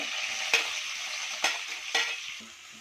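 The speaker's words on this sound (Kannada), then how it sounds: "ಚೆನ್ನಾಗಿ ಫ್ರೈ ಮಾಡ್ಕೊಳ್ಳಿ. ಹಿಂಗೆ ಫ್ರೈ ಆದಮೇಲೆ ಹಾಗಲಕಾಯಿ ಹಾಕೋಣ." Onion and curry leaves fry steadily in a pan for bitter gourd gojju, a continuous close sizzle broken by three sharp knocks of a spoon stirring against the pan.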